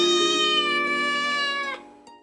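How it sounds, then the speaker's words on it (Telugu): A cat gives one drawn-out, clear meow, close and loud, fading out near the end with no other sound around it. "అదే ఇంట్లో ఓ పిల్లి కూడా ఉండేది"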